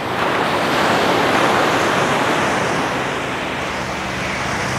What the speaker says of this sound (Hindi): बहता हुआ पानी देखिए